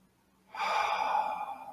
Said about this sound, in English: this mysterious body-mind can cultivate an intention to breathe deeply